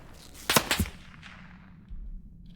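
Enemy sniper fire in the video game Isonzo: a sharp burst of two or three close, loud cracks with a short reverberant tail, then faint low rumble and distant ambience, no talking.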